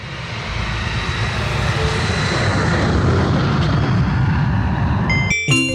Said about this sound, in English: A cargo plane flies up in the sky.